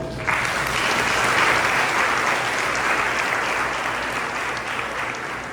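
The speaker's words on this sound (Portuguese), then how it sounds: "Vamos aplaudir o Senhor?" A church congregation breaks into loud, full applause for the Lord during a service, a dense steady roar of clapping that holds evenly throughout.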